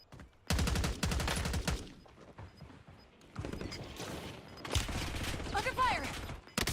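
Bursts of rapid automatic gunfire from the Call of Duty Warzone video game, loud and close, in several volleys separated by brief pauses, with mechanical clicks and a voice speaking in between.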